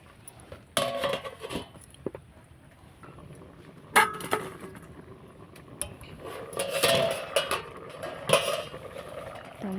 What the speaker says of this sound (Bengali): এবার ঢাকনাটা চাপা দিয়ে দেবো।